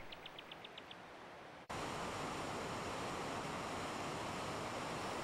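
Staubbach waterfall's meltwater from the Jungfrau rushing between rocks, a loud, steady broadband roar that cuts in abruptly after a quiet opening marked by a short series of faint, evenly spaced high beeps.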